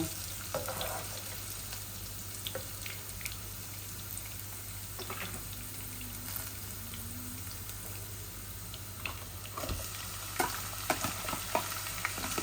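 Garlic frying in a pan while being cooked until reddish, a continuous moderate sizzle with scattered stirring clicks and scrapes, no talking.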